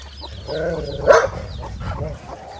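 A hen clucks close by on a grassy lawn, a short rhythmic series of calls with one louder squawk in the middle.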